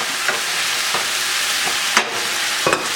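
Lemongrass beef and softened onions sizzle loudly in a hot pan, a dense continuous hiss marked by a few sharp scrapes as they are stirred.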